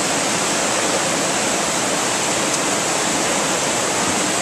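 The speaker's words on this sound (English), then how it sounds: "The water is popping up over the top of the bridge" Floodwater in a May 2010 flood pouring over the top of a bridge, a loud, constant roaring rush of water filling everything, with no other sounds.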